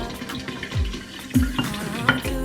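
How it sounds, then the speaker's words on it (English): Liquor pouring from a bottle spout into a glass while a drink is mixed with Grand Marnier and brandy, heard as a close, irregular liquid trickle and splash with a few brief clinks. "I'm always terrified it's gonna like start pouring out of the spout."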